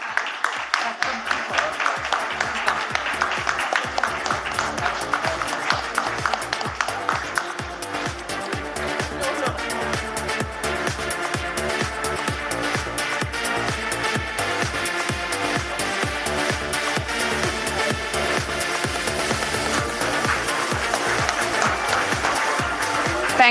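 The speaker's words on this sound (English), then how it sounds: "A huge round of applause, please." Audience applause at the closing ceremony of the LAWASIA Conference 2023, a dense, steady wash of many hands clapping that holds for over twenty seconds at an even, moderately loud level.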